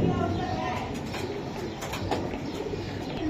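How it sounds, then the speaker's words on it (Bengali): Old-breed pigeons, a pair of Giribaz tumblers, coo softly and steadily beneath someone talking nearby. "পুরান জাতের কবুতর ভাই, এটা পুরান।"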